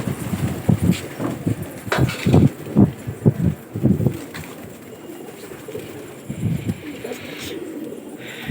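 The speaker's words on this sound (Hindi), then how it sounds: "ये खुल्लत हो रही है कबूतर की, बिल्कुल नया कबूतर है।" Low, throaty cooing from a new Lalband Dandedar pigeon comes in repeated pulses, close by, fading out about halfway through before a few softer coos return.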